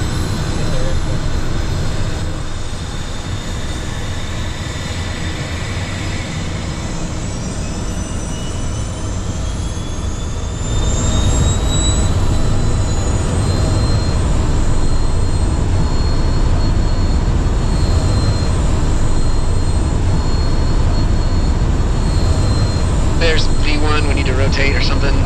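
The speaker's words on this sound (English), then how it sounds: "Texas traffic, Learjet, Charlie Bravo 5450, departing runway 49er, VFR to the east" Steady, loud roar of a Learjet's jet engines during takeoff and climb-out, heard from inside the cockpit as a constant broadband rumble that swells slightly partway through, with faint tonal whines above.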